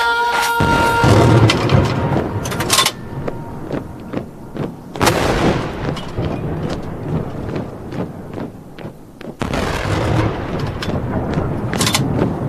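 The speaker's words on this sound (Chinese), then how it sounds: "轰鸣的礼炮响彻天安门广场的上空" Ceremonial artillery salute fired over Tiananmen Square in Beijing at the 2009 National Day celebration for the 60th anniversary of the People's Republic of China: repeated loud, booming cannon blasts echoing across the open square amid crowd ambience.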